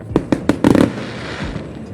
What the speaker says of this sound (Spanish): De repente había fuegos artificiales que eran bonitos.